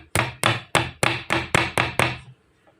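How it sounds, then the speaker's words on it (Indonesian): Eight sharp, evenly spaced hammer blows drive a nail into a piece for a homemade grinder wrench, loud and close, each strike ringing briefly before the next, then stopping. "Oke, kita paku dulu, kita palu dulu"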